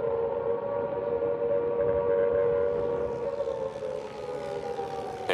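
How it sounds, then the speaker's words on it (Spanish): WWII air raid sirens wail in a long, steady sustained tone across London during the night bombing, rising slightly toward the end, fairly distant and alone without talk. "Entonces se oye el ruido de las sirenas."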